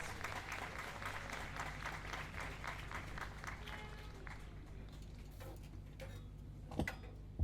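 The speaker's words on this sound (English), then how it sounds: "give them a round of applause" A crowd applauds steadily, dense clapping that gradually thins and fades toward the end, with a few louder claps closing it out.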